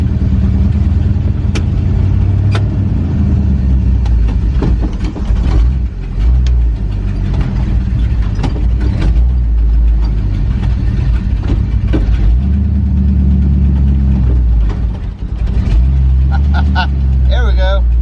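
A car engine runs steadily and loudly at low pitch throughout while driving, with people talking over it and a few brief knocks and clatters mixed in.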